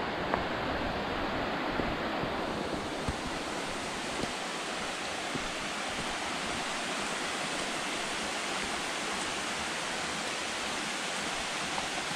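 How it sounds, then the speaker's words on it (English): Small waterfall cascading steadily near Noland Creek in the Great Smoky Mountains, a continuous broadband rush of falling water close by, with no voices. "Pretty neat looking little cascade over here."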